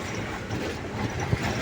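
A train rumbles across a railway bridge over the Krishna river barrage, a steady loud rolling roar with a single sharp knock near the end.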